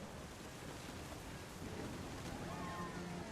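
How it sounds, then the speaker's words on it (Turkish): Storm ambience in the video game What Remains of Edith Finch: steady rain hissing with a low, rolling rumble of thunder building underneath, faint and continuous rather than a single sharp crack. "thunder sounded much too close and full of angry power"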